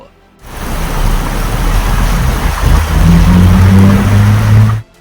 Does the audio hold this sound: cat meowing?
no